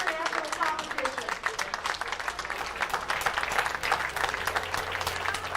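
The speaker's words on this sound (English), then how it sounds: "how about a big round of applause for the athletes for the winners that represent the USA in international competition" A crowd at the U.S. Amateur Championships stepladder finals applauding Team USA athletes, sustained dense clapping with voices murmuring and a low hum underneath.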